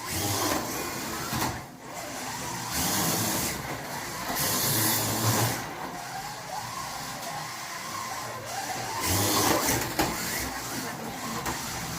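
An Autobianchi A112 slot car runs on a slot racing track, giving a continuous whirring, hissing motor buzz that swells and dips as it laps and slides through corners.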